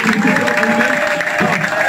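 A crowd of the Congolese community living in China applauds loudly and steadily for two seconds, dense clapping mixed with cheering and a sustained tone over it.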